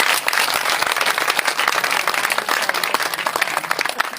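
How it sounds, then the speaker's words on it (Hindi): Audience applause for politician Neelam Agarwal at an International Women's Day dialogue event, a dense steady wash of many hands clapping together, loud and sustained without pause. "नीलम जी के लिए एक बार जोरदार तालियां"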